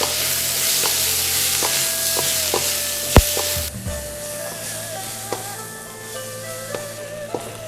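Vegetables for fried rice sizzle and hiss steadily as they are stir-fried in a pan, with occasional sharp clinks and scrapes of a utensil against the metal, close and moderately loud.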